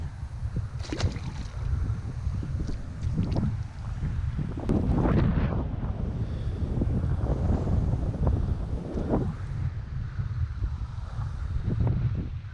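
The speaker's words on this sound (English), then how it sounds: "This wind, man. You gotta really feel it." Strong wind roars and buffets the microphone on a boat during bass fishing in fall, a loud continuous rumble with gusts and faint water sounds, no talking.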